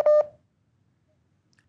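Two short touch-tone telephone beeps ring out clearly as a caller's line connects, followed by near silence with faint line noise.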